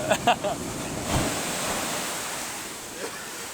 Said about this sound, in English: these waves though, hold on